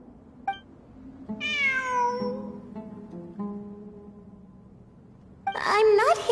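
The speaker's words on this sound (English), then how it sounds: "I'm not hearing things. It really is a cat." A cat meows in a video game, a few drawn-out high meows with a softer mew between them, heard alongside faint background music and ending in a sharper yowl.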